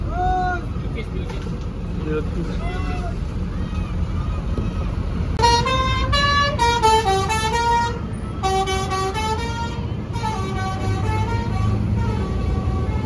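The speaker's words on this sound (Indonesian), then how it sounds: "Itu bis karyawan." An employee bus passes in a convoy of buses, blasting a loud multi-tone musical horn in repeated bursts over steady engine and traffic noise, with voices talking throughout.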